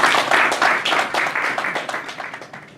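Applause from a combat sports press conference audience in Dublin, a modest group clapping with audible individual hand claps, loud at first and gradually tapering off.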